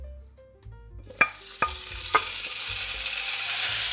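Potatoes poured into a pan preheated in the oven, with a few quick thuds as they drop in, then a bright hiss and sizzle that builds and holds steadily up close.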